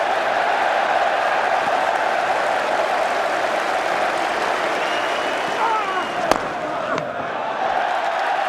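A cricket crowd at the 2005 Ashes applauding a boundary, a broad sustained roar of clapping and cheering from a large stadium audience, steady and loud throughout, with a couple of sharp knocks near the end.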